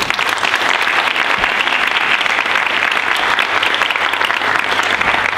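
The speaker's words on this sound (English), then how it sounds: "I would like to give you another round of applause for that" Sustained audience applause at a civic event honoring a sustainable, beautiful city, a dense steady wash of many hands clapping, loud and close throughout with no speech over it.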